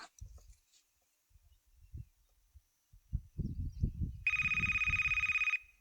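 A telephone rings with a steady electronic tone lasting over a second, following quiet low thumps and rustling in a still room.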